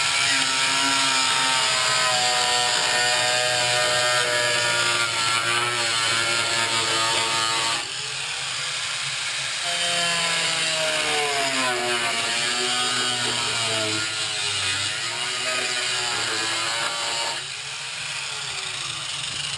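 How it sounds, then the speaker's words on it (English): Angle grinder whining steadily as it cuts through a plastic sump pump pit lid along a pre-cut line, loud and close, with the pitch dipping and rising as the disc bites, running continuously with no talk. "Once again, I've got an angle grinder."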